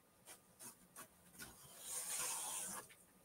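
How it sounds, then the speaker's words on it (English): Scissors trim embroidery stabilizer away from a Halloween quilt, heard as a few quiet, evenly spaced snips followed by a longer soft rasping cut, faint and up close. "I want to go ahead and trim up this bit of stabilizer."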